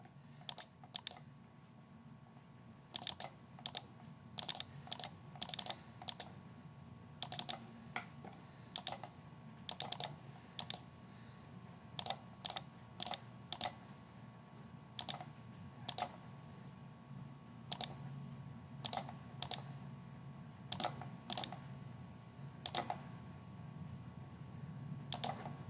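Computer mouse buttons clicked in a scattered mix of single and double clicks, crisp and close, spread irregularly over a steady low background hum with no talking.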